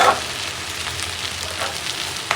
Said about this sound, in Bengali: চিংড়ি মাছটা দিয়ে এখন ভালো করে কষাবো মশলা টসলা দিয়ে।